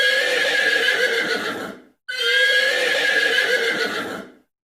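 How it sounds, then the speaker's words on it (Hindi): A horse neighs twice in a row, each a long, loud, shrill whinny with a short pause between them. "घोड़े की हिनहिनाहट"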